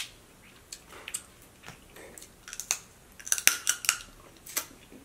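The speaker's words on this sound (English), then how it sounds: "I love that cracking sound." Crawfish shells from a seafood boil crack and snap in a quick run of sharp, close-up crunches and clicks, growing denser toward the end, with no talking over them.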